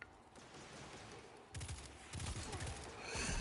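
A pulse rifle in Destiny 2 fires several quick bursts, each a cluster of sharp, punchy shots, with the bursts growing louder toward the end.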